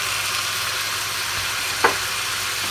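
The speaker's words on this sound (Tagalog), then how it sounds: "at haluin po ng bahagya. Para po lumasa ang asin at ang paminta sa karne." Kare-kare meat sizzles steadily in a pot as it is stirred with salt and pepper, a constant close frying hiss with one brief scrape near the end.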